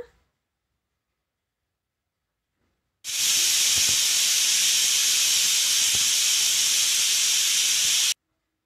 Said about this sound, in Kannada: ಕುಕ್ಕರ್ನ ಕ್ಲೋಸ್ ಮಾಡಿ ಎರಡು ವಿಜಲ್ ಬರೋವರೆಗೂ ಇದನ್ನು ಬೇಯಿಸ್ಕೊಳ್ಳೋಣ